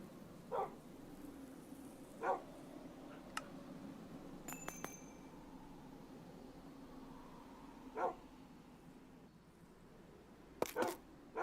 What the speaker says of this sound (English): Those dogs are barky.